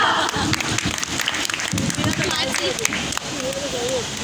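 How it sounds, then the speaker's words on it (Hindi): Guests at a ninth anniversary celebration clap to welcome an arriving visitor, uneven scattered applause mixed with crowd chatter, voices and footsteps in a lively room. "आप सबकी भरपूर तालियों में वेलकम करते हैं"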